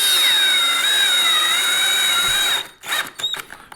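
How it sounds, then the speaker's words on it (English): A power drill drives screws through the frame of a single-hung retrofit window into the wood behind it, a close, loud, steady whine that shifts pitch slightly, then stops and gives way to short bursts and clicks. "the screws are going through the first hole, through the second hole,"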